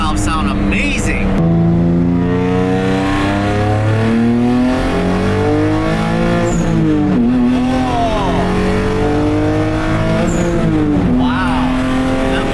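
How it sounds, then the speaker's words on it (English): A car engine revs and drones steadily, with sharp whooshing bursts of a turbo blow-off valve cutting through after the revs. "Wow, that blow-off valve sounds so good. Those blow-off valves are so loud."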